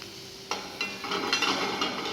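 Vegetables seasoned with salt and black pepper are stirred in a pan for rosti primavera, with a soft sizzle under a few scraping strokes of a spoon, close by.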